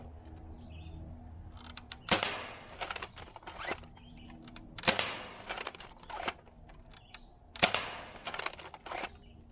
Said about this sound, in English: I don't know if it'll shoot them at all.